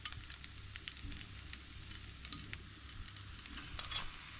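Kingfish coated in rava shallow-frying in a pan, a steady close hiss of oil with scattered small pops and crackles running throughout, no voices.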